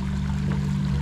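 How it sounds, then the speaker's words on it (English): Water from an automatic aquarium dosing system drips into a skimmer box, a steady trickle over a constant low pump hum. "We've got it dripping right in front of our skimmer box"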